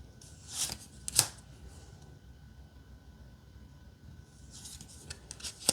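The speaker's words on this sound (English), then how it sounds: "we'll flip through the deck and then we'll shuffle" Pages or cards of a White Sage tarot deck being flipped through, giving a few brief crisp riffling bursts near the start and again at the end, with quiet room noise between and no talking.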